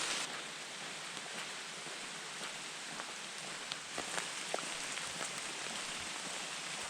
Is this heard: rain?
yes